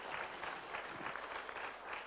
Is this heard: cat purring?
no